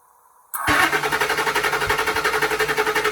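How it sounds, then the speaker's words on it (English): A 2003 Ford F150 with the 4.6L V8 cranks on a battery booster after a brief quiet start, the starter churning in a steady fast rhythmic chug that never catches, loud and close for about three seconds. "let me go ahead and crank the engine"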